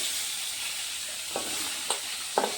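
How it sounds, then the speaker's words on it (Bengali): Potatoes and cauliflower fry in a pan for a fish curry, a steady close sizzle with a few soft scraping stirs near the end, no voices. "এখন এগুলোকে ভেজে নিচ্ছি"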